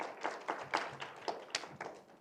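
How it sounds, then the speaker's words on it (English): A school assembly audience gives a quiet, sparse round of applause, a handful of distinct claps spaced irregularly and heard from some distance. "give him one more round of applause"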